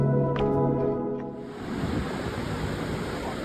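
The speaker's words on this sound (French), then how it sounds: "je contemple la valse des vagues qui s'échouent inlassablement sur les rochers sculptés par le temps" Ocean waves wash against sculpted coastal rocks as a steady broad roar of surf, entering after a few seconds of sustained tonal sound and then continuing evenly to the end, with no talking.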